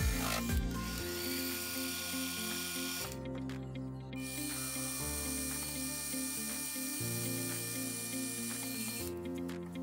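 A mini lathe makes a finishing pass on a metal part for a spinning base, giving a steady mechanical whir with rhythmic ratcheting tones and brief changes in pitch, up close with no talk.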